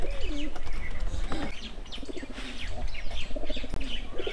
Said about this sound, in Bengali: এটা হচ্ছে ম্যাড্রাস কবুতর।